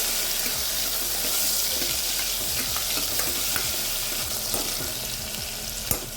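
Tomatoes being stirred into a pan while cooking dudhi dal saak, with a steady frying sizzle and repeated soft scraping strokes of a spoon, close and continuous, with no talking.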